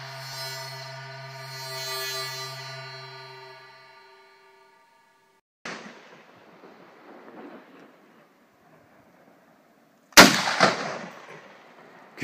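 An M1 Garand rifle fires outdoors in the Cascade mountains: two sharp, loud shots with rolling echoes, the second louder, after a sustained tonal sound fades out.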